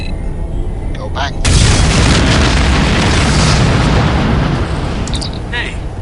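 A massive explosion in Star Trek Voyager: Elite Force erupts suddenly after a quiet moment and rolls on as a loud, sustained roaring blast that slowly decays, with faint game effects at the edges.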